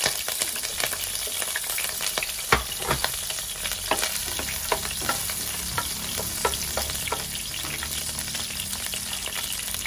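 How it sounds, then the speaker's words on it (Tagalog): Garlic and onion sautéing for sinigang na maya-maya, a fish soup: a loud, continuous close-up sizzle broken by sharp spatters and the scrape of stirring, with no voices. "Unahin natin ang bawang sibuyas. Yan, nananalamsik."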